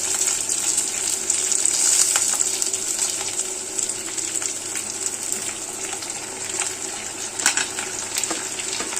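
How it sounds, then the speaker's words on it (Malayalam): Chopped onions and tomatoes sizzle and fry steadily in a hot pan for a Kerala-style tomato curry, a close, continuous hiss with occasional stirring clicks and no voices. "ഇനി നമുക്കിതിലേക്ക് കട്ട് ചെയ്ത് വെച്ചേക്കുന്ന സവാള, തക്കാളിക്ക എല്ലാം കൂടെ ചേർത്ത് കൊടുക്കാം"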